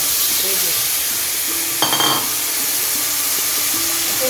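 Green chillies sizzle in a frying pan of potatoes and flat beans before tengra fish go in, a steady loud hiss with a brief clatter partway through and a voice talking over it.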